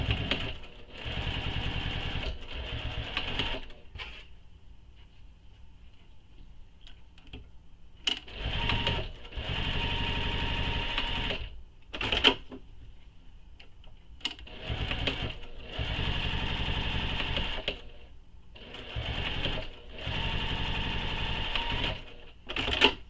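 A sewing machine top stitches long fabric edges in several loud, steady runs of rapid clatter, separated by quiet pauses, with no talk.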